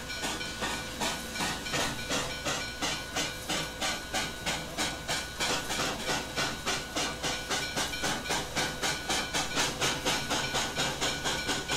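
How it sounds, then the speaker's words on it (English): Steam locomotive chuffing from a CN S1b 2-8-2 in the Trainz 2019 train simulator, loud regular exhaust beats repeating at an even, slightly quickening pace with hissing steam throughout. "The chuff sounds are fairly typical K&L chuff sound."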